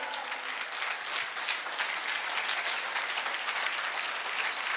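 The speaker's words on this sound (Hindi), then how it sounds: "जोरदार ताली होनी चाहिए सर के लिए" An audience claps loudly and continuously at a business success talk, dense applause that stays steady from start to finish with no break.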